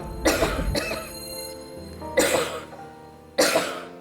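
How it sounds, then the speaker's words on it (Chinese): Three loud, harsh coughs, each a short burst, with pauses between them and nothing else in the background. "大声咳嗽"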